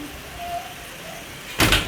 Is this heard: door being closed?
yes